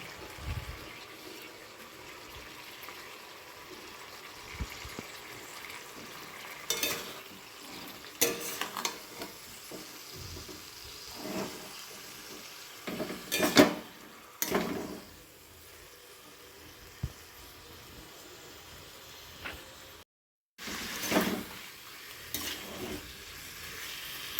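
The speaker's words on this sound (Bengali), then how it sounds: "ধনে গুঁড়োটাই দিয়ে এবার এই চিকেনটাকে কষাবো" Chicken being sautéed and stirred in a pan with ground coriander and spices: a low, steady sizzle with repeated scraping stirs that come in several louder bursts and a brief silent gap.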